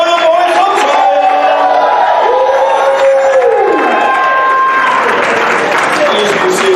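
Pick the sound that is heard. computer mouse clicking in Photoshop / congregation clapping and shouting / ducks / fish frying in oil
congregation clapping and shouting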